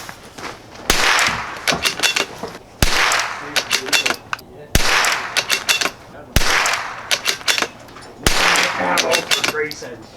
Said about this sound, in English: the next box we're gonna try here is the Federal. Run 10 shots of this.